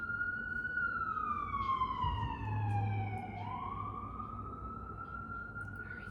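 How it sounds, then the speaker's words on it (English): An emergency vehicle siren wails with a slowly falling then rising tone as it passes at a moderate distance, over a low rumble of road traffic. "Another siren coming."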